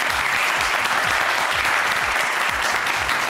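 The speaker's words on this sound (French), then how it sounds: "on les applaudit très très fort" Studio audience applause for contestants on a French TV talent show, a loud, continuous wall of clapping with faint crowd noise, holding steady throughout.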